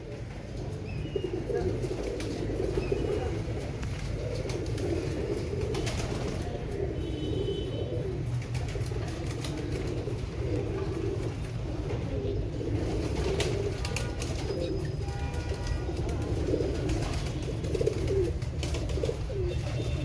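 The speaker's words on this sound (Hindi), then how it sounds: "काफ़ी कलर के कबूतर हैं पास" Steady, overlapping coos from colourful Imam Deen pigeons repeat throughout, low and throaty, with several birds close by and a constant rumble of background noise; no one speaks.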